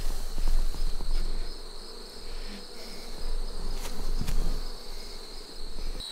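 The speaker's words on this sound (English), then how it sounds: "so all the bees are down in one box here" Honey bees buzzing in a full hive box during fall beekeeping, a dense, continuous humming drone close by with fluctuating intensity and a few brief higher tones, no talking.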